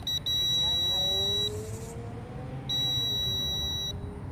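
A Ruko U11 Pro GPS drone outdoors gives two long, steady high-pitched electronic beeps during its return to home, with a short gap between them, over a low motor hum and wind.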